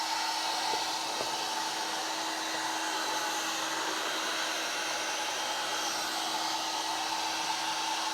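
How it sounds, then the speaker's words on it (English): A heat gun warms a clear plastic dash cover on a Mazda MX-5 Miata to loosen its glue, giving a steady, even blowing hum with a constant whine, unbroken and moderately quiet. "we're going to gently use a heat gun all the way around it for a good 10 minutes"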